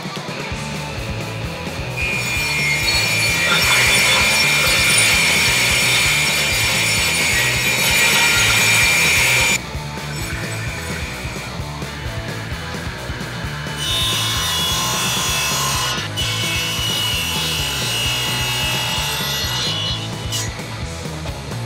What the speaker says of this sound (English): Cut all the wood for the arms.